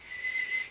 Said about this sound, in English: I can whistle inwards now.